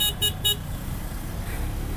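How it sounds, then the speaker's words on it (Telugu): Three short, sharp beeps from a KTM Duke motorcycle horn sound in quick succession at the start, followed by a low idling engine rumble. "హార్న్ వినండి,"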